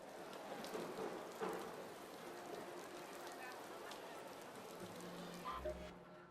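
Rain patters steadily on surfaces in the Arc Raiders video game, a faint, even storm ambience with a brief low rumble near the end and no clear talk.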